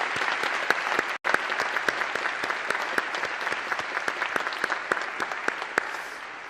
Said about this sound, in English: Let's give Dad a round of applause